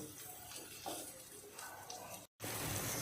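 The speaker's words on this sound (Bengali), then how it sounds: "এভাবে ভেজে নিব আবার উল্টিয়ে দিব" Pumpkin slices fry in a pan with a steady, faint hiss of sizzling oil, briefly cut off then resuming.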